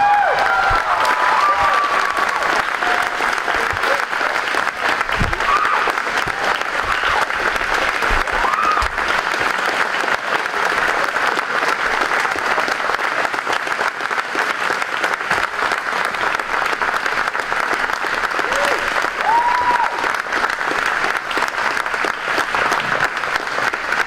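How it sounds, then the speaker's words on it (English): A concert audience gives the seniors a standing ovation at a spring school concert in May 2021: dense, steady applause from a large crowd, loud and sustained for the whole stretch, with faint scattered voices underneath. "Standing ovation, please, for these seniors."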